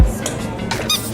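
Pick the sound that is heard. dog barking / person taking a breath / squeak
squeak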